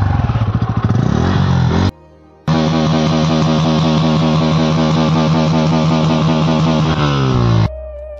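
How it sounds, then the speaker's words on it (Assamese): A Bajaj Pulsar N160 motorcycle engine revs loudly up close, climbing through a rising rev, dropping to near silence for a moment, then holding a steady high-pitched roar before falling away at the end. "আৰু বাইকখনৰ RPM শুনিব পাৰিছে"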